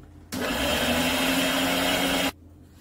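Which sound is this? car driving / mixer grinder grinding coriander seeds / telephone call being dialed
mixer grinder grinding coriander seeds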